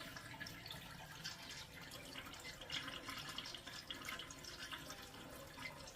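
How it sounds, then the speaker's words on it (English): Toilet tank refilling after a flush through a Fluidmaster PerforMAX universal fill valve, a steady close hiss and trickle of running water with no talk. "let me flush this thing, guys, to see if it works"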